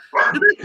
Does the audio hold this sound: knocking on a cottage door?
no